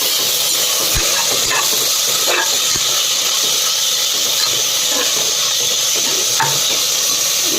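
A spoonful of ginger garlic paste sizzles in a pan with a steady hiss and steam, broken by scattered crackles and the scrape of stirring, close and continuous.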